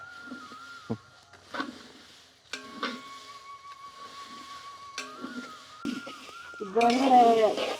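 Dried chillies being dry-roasted in a pan for homemade chilli powder, with soft crackling and sizzling in short bursts that grow denser and louder toward the end, alongside scattered tonal clinks and background voices.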